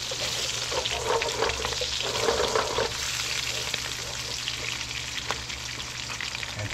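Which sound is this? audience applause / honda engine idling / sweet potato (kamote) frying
sweet potato (kamote) frying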